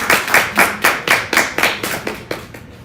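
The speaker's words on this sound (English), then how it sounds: "A better round of applause again for him." Applause for a speaker at a 2022 Black History Month celebration, sounding as a small group's fairly loud, even clapping that tapers off over a few seconds, with no talking.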